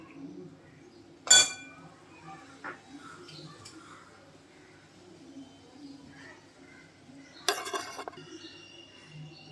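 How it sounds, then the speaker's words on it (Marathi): Semolina kheer served into a bowl in a home kitchen: a sharp clink of a metal spoon against a dish early on, soft scraping and light taps, then a longer clattering scrape of utensil on vessel near the end, fairly close and quiet. "आता आपण याला एका बाउलमध्ये सर्व करूया"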